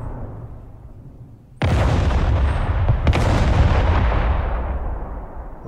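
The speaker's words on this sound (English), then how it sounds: "Rocket artillery at your command" Rocket artillery fires in the video game Broken Arrow, one loud booming launch quickly followed by a second, each blast rolling on into a long, dense roar that slowly fades.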